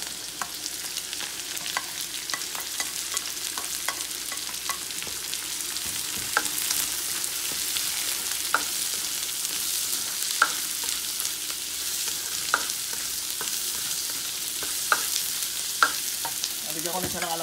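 Garlic and onion sautéing in a hot pan for Bicol Express, a steady bright sizzle that runs throughout, with faint clicks of stirring scattered over it and no voices.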